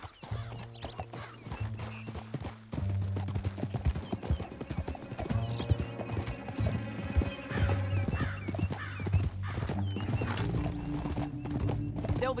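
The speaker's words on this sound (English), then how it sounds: "Back on your horse, let's get after them." Horses' hooves clip-clop rapidly in a galloping rhythm amid busy game music and effects in Red Dead Redemption 2, with a horse whinnying partway through.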